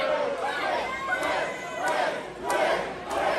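A split wrestling crowd at a women's pro wrestling match roars and chants in a dense, steady wall of noise, with rhythmic swells of cheering and shouting.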